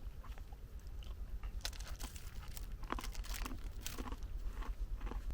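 Chocolate chip biscuits from a French 24-hour ration pack are bitten and crunched up close, with repeated sharp crisp bites, quieter chewing and a little packaging crinkle, all without talk.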